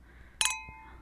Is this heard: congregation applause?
no